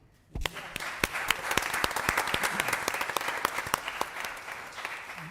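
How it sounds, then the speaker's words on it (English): Town council meeting applause for candidates, starting suddenly after a quiet moment: a small crowd clapping steadily for about five seconds, moderately close, with a faint murmur underneath. "we have a round of applause for all the candidates"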